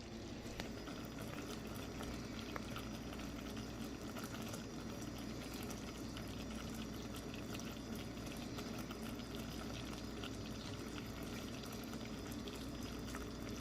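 Cracker toffee mixture bubbles steadily in a pot on the stove, a continuous soft seething and popping that stays quiet and unbroken throughout, with no talking.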